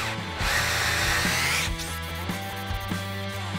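Power drill boring a hole into a wooden guitar body under construction: a loud steady whine from the bit cutting into wood, with a brief pause and restart, close up and without speech.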